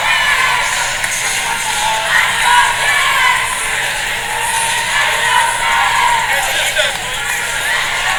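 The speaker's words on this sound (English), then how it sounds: "Both teams' fans are on their feet and are excited cheering their team on to victory" Fans of CMU and Ball State are on their feet cheering during the game, a continuous roar of crowd noise with shouts and whoops rising and falling throughout.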